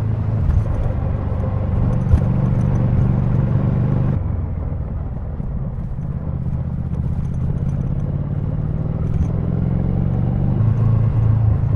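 A Triumph Thruxton R motorcycle on a test ride gives a steady, loud engine drone with constant road and wind rumble. Partway through, the pitch drops, probably on a shift or as the bike slows, and the drone keeps going without a break.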